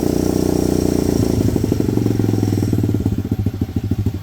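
A 2003 Suzuki DRZ110 dirt bike engine revs and then hangs at a high idle with a steady buzzing putter, slowly dropping into a lumpier, pulsing idle near the end, close and loud.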